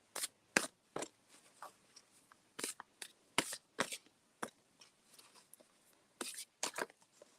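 A deck of oracle cards shuffled by hand, giving sharp, quiet riffling snaps and soft slides in irregular bursts, close and alone in an otherwise silent room.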